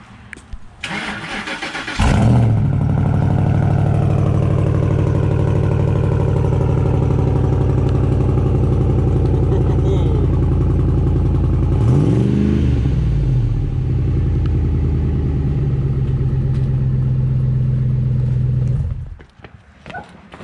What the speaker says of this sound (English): Sounds throaty. Yeah, it's got a good deep tone to it.